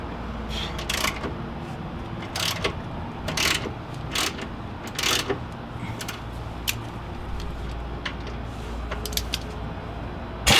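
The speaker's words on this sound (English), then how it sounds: "we're going to unbolt the track bar here at the frame side" A Jeep track bar is unbolted at the frame side with a ratchet, giving bursts of rapid metallic clicking and tool clatter, close and moderately loud over a low background hum.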